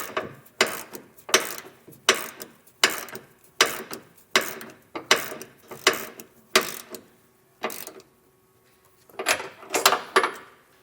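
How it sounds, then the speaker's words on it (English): A nylock nut being tightened with a 15/16 wrench during an air bag install on a 2022 Ford F-250, giving a series of about a dozen close ratcheting clicks in quick bursts with a short pause near the end. "I'll use a 15/16 wrench Tighten this up."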